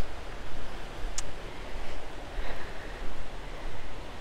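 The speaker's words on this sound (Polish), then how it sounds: "Jest już tutaj wzburzona rzeka." A rough, churning river rushes nearby at Cramond Island, a steady broadband wash of water with some gusty noise.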